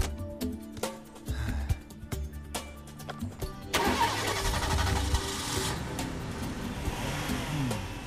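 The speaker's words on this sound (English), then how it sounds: "I remember that sound. Good old engine." A cartoon car engine cranks through a few uneven bursts, then catches at about the midpoint and settles into a steady, full rumble that runs to the end.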